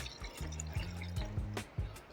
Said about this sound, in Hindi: 2 गिलास हम इसमें डालेंगे पानी।